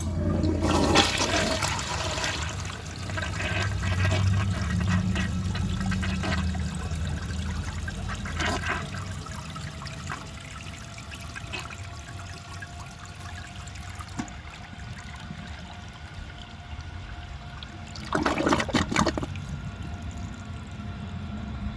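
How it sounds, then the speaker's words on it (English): A 1966 Crane Whirlton low-tank toilet flushing with a dry bowl: a loud rushing flush that gradually settles into trickling and refilling water, with a brief splashing surge near the end. "let's see how it flushes with a dry bowl"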